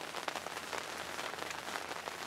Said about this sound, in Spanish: Se oye muy suave la lluvia